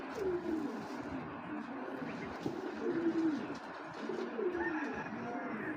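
Several pigeons coo in soft, repeated low rolling calls, fairly close, over a steady murmur of other birds at a breeder's club loft.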